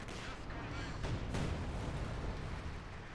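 Artillery fire in the video game Company of Heroes 2: heavy, rumbling blasts that roll into one another, with a stronger boom swelling near the middle before settling into a continuous low roar.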